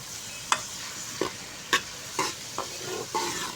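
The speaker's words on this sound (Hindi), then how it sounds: "अब इसको हमने प्याज को हल्का सा फ्राई कर लेना है।" Onions fry in oil in a pan for restaurant-style dal chicken, giving a steady close sizzle. Six spaced spatula scrapes and taps cut through it, and no one talks.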